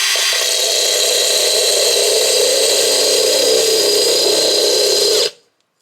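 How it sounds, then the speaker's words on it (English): A power drill runs steadily, boring a hole through a thin planter resting on foam, a loud sustained whine with a hollow tone that stops abruptly near the end. "And I'm gonna put another foam on top when I do drill it."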